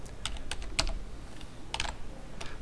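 A few sharp keystrokes on a computer keyboard while a telnet session is opened in a new window, tapping in short, irregular clusters, close and fairly quiet with no talking.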